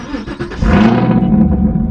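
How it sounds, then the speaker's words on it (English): A Camaro with a new MBRP axle-back exhaust and deleted secondary cats cranks and fires up, a brief starter whir followed by a loud, deep exhaust roar that settles into a rumbling idle. "here goes the first startup of the MBRP Axleback exhaust"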